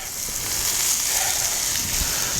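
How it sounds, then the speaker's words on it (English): Colored peppers with rosemary, oregano and thyme sautéing in a pan, a constant close hiss of frying with no voices. "Start to saute these around."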